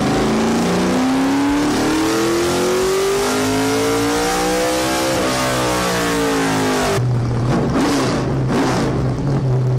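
A V8 muscle car engine tuned toward an old-school NASCAR Cup car sound revs steadily upward in a loud, continuous climb, then drops to a rough, lumpy idle with sharp throttle blips near the end.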